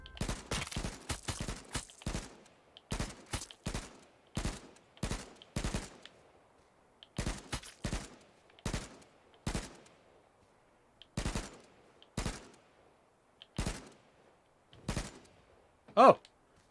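AK-47 fire in the video game H1Z1, loud separate bursts and single shots repeating at irregular intervals, each cracking sharply against near silence.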